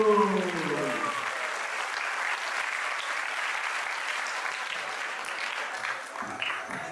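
An audience at a Janmashtami Krishna Lila drama claps loudly and continuously, a dense sustained ovation after a voice fades out at the start, tapering slightly near the end.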